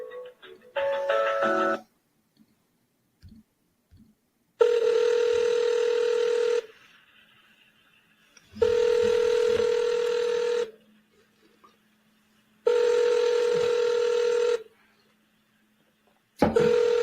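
Cell phone dialing tones: a few short key beeps at the start, then a steady repeating pattern of long two-second tone bursts with silent gaps, close and clear, no talking.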